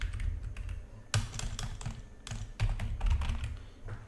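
Steady clicking of a computer keyboard while an email address is typed, rapid close key taps with a few louder strikes, running continuously over a low background hum.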